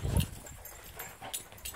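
Dogs make a short burst of noise near the start, a brief bark or whimper that fades into low rustling and faint movement.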